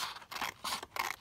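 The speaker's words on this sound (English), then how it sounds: "I'm just going to cut it along here" Scissors snip through paper being cut for a policy envelope, several quick close scraping cuts in a rapid rhythm, quiet and with no talk.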